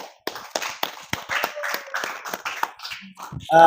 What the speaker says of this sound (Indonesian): Sekali lagi kasih tepuk tangan ya